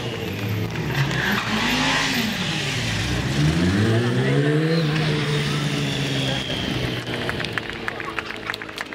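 A motorcycle doing a High Shark donut stunt at a Kajaani bomber show, its engine revving and swooping up and down while the tires squeal continuously, loud and fairly close amid crowd noise and an announcer talking.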